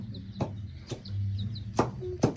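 Young chicks being caught, with soft peeping chirps and clucks close by, broken by several sharp knocks and rustles as they are grabbed.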